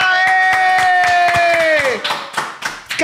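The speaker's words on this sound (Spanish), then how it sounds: "Aplausos, Sky" Clapping hands greet a woman being introduced on a talk show: sharp, evenly spaced claps from a small group run under a sustained tone that bends away at the end.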